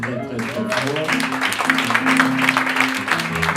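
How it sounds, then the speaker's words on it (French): Applause from an audience at a closing tribute, steady dense clapping with a voice and tonal sound running over it throughout. "On applaudit très fort."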